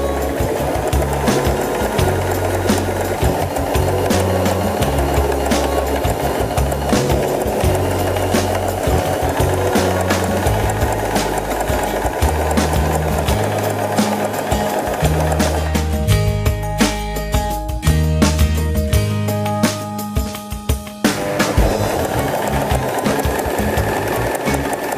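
A Janome 3016 sewing machine stitches steadily at close range, its motor humming under a rapid mechanical needle rhythm that shifts in tone briefly partway through before resuming.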